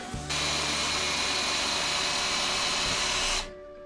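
A cordless power tool with a weak, low battery drives a screw into a wood block. After a brief start it gives a steady, loud, close motor whine for about three seconds, then cuts off.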